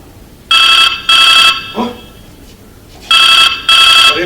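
A telephone bell rings in two double bursts, each a loud, bright, warbling trill about half a second long. A short quiet gap with a faint voiced sound separates the pairs. The ringing stands alone and close.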